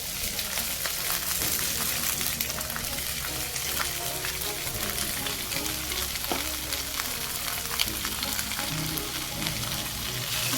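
Washed fenugreek leaves hitting hot oil in a pan, a continuous broad sizzle and crackle with occasional stirring scrapes, steady and close with no talking.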